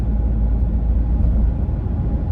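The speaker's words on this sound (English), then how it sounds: "Wind noise from wind just buffeting the truck as I'm driving" Steady low rumbling roar of wind buffeting a moving truck, constant and loud throughout with no pauses.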